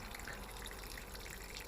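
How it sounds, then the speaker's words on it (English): Water draining out of a drinking water tank during freezing weather, a steady, dense rushing and trickling flow that runs unbroken and fairly quiet, with no voices. "draining the drinking water"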